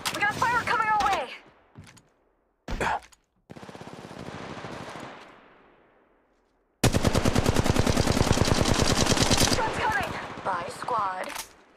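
Gunfire in the mobile battle royale game Apex Legends Mobile, with short bursts followed by a long, loud, rapid automatic volley. Quiet gaps and game voice lines sit between the bursts.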